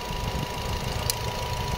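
A Nissan Almera engine idles rough with cylinder 4 disconnected, a steady shaky knocking rumble with uneven vibration, close and continuous with no talk.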